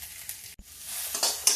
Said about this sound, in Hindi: ये देखिए अब थोड़ा सा लहसुन जरा सा ब्राउन हो जाए